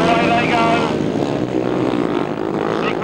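Grasstrack racing sidecar engines roar loudly together at the start of a race, a harsh droning snarl that rises then holds steady, with a commentator talking over it.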